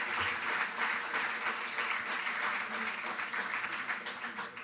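Sustained, dense applause from a large audience at a para-athletics award ceremony, steady and loud throughout without a break.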